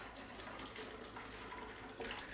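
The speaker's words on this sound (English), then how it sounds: "I've got my tumblers here." Whiskey sour mix poured into tumblers, a steady close liquid stream running throughout with a slight rise in splashing near the end, with no talk over it.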